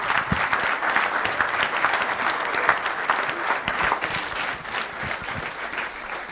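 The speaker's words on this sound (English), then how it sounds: "Let's give her another round of applause." Symposium audience in a hall applauding steadily, dense sustained clapping from many hands for several seconds, loud and close, with a few faint voices mixed in.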